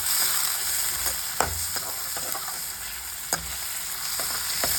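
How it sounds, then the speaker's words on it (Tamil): Prawns sizzle in hot oil already used for frying fish, a steady crackling hiss with a few sharper pops and stirring clatters, close and continuous with no talk. "இறாலை வந்து போட்டு நல்லா அப்படியே ஃப்ரை பண்ணணும்."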